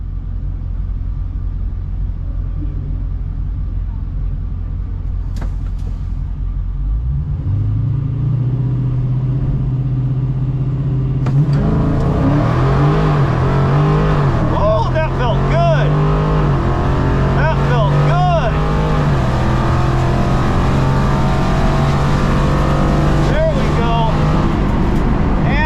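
A Dodge Challenger idles and then launches on a drag strip at Texas Motorplex, its engine rising from a low rumble into a loud, sustained roar with gear-change dips, close and dominant throughout.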